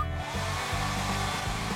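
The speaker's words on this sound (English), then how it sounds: "Hair dryer." A hair dryer blows steadily in a video game, a continuous loud whoosh with a game music bed underneath, no talk.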